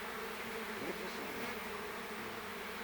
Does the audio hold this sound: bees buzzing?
yes